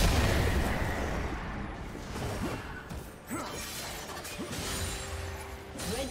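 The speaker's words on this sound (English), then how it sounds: "Red team's turret has been destroyed." A League of Legends turret is destroyed amid loud, dense game action: crumbling smash and whooshing bursts over a thick rumbling bed, with brief rising tones near the end.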